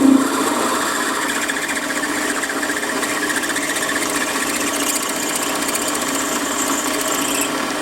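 A Warco lathe drills into a workpiece with a 6mm drill, giving a steady, close, continuous mechanical whir with fine rhythmic rattling that holds evenly throughout, with no talking.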